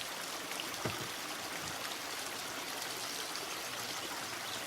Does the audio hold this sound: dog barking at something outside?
no